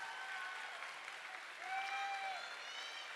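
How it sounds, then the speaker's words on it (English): A crowd at a high school boys' varsity basketball event applauds continuously, a steady wash of clapping with a few whistles or squeaks cutting through now and then. "I want to give a round of applause."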